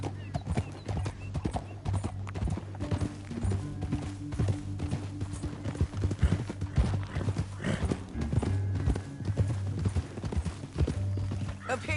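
Horses gallop with rapid, steady clip-clop hoofbeats and an occasional whinny in the Western video game Red Dead Redemption II, mixed with game ambience and some low speech.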